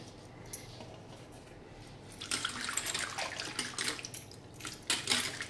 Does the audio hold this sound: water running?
yes